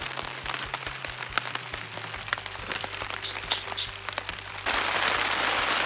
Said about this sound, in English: I'm just going to sit here for a little bit and watch the rain, I think.